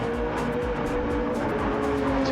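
Race car engine from the Flat Out Racing video game, a steady loud drone with a faint whoosh as the car passes on the Kyoto Yamagiwa track, alone without talk.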